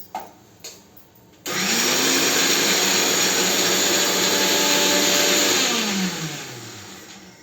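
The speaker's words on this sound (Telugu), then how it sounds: "దాన్ని నేను ఇప్పుడు మిక్సీ తిప్పేస్తున్నాను." A kitchen mixer grinder grinds roasted ingredients for majjiga pulusu, starting after a few light clicks into a loud, steady whirring roar that winds down near the end.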